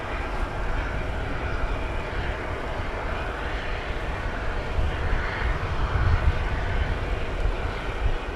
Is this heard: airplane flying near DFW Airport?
yes